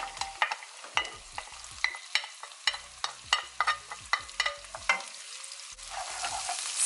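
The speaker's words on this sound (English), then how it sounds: "Stir everything." Vegetables for a simple vegan vegetable rice being stirred in a frying pan: a steady sizzle broken by repeated scraping strokes of a utensil, close and fairly loud, with no voices.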